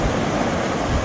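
Ocean surf on an Atlantic beach at night, a steady broadband roar of breaking waves with some wind, loud and unbroken.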